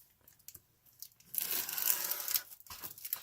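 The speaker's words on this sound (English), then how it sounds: "Grab out a knife here, and we'll get that cut open." A knife slits open the plastic bag of a model kit for a water tank truck, giving a faint, close crinkling tear of thin plastic lasting about a second, followed by softer rustles.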